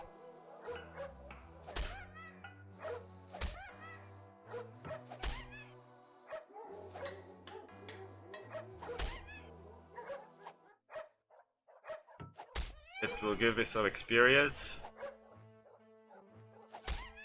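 Hostile dogs attacking in the video game Konung 3, with a series of sharp barks and yips over game music and weapon thunks, and someone talking through parts of it.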